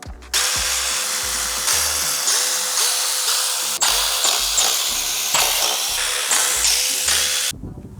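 Power tool undoing 10 mm bolts and nuts on a BMW E70 X5 35d, whirring in a string of short bursts with ratcheting pulses, loud and close, without talk.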